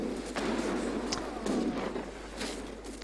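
Cannons firing in the game Age of Empires 3, a dense rumbling barrage of overlapping booms and impacts that keeps going steadily without distinct separate shots.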